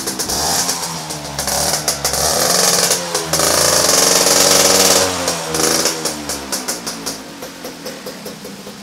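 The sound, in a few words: 2001 motorcycle engine running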